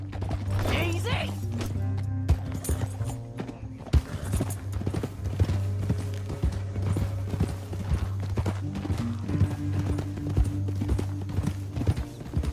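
Horse hooves clatter in a fast, steady galloping rhythm over a constant low drone, with sharp thuds scattered through, in the video game Red Dead Redemption 2.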